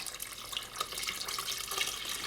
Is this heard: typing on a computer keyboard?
no